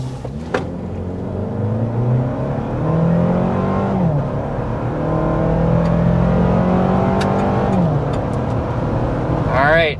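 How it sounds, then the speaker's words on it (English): A 2024 Toyota Land Cruiser with the iForce Max hybrid powertrain under hard acceleration from a standstill, engine revs climbing through several rising gear pulls, loud and close inside the cabin, with an occasional voice over it. "start out with a hard acceleration to see what this hybrid system is all about"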